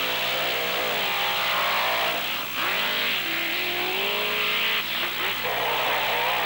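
Monster trucks, one with a 572-cubic-inch Ford engine on Firestone tires, launch from the starting line on beach sand in a 1997 race, a loud, rising engine roar with revving pitch sweeps, under an announcer's commentary.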